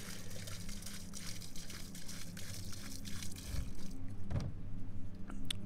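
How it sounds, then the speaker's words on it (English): Antifreeze poured from a large jug into swimming pool plumbing lines during winter closing, a steady liquid gush and trickle over a constant low hum, with a brief splashing surge near the end. "Just pour it in. It goes into lines, just in case it leaks."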